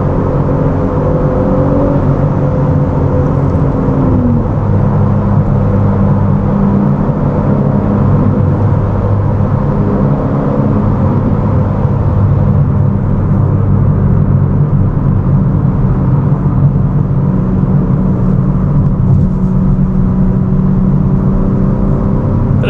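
A steady, loud engine drone from a 503 hp BMW M3 Competition driving through a tunnel, with a hollow, enclosed rumble and whirring road noise, continuous throughout with no voices.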